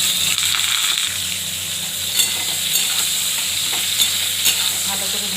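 Water spinach greens fry in a pan with a constant close sizzle, while a spatula stirs and taps against the metal in scattered clicks.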